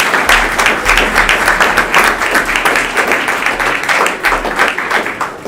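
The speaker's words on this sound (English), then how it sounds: "You have to give him an applause." Audience applause at a sustainable blockchain hackathon final pitch session, honoring a team co-founder: dense, steady clapping from a sizable crowd lasting several seconds, with little talk.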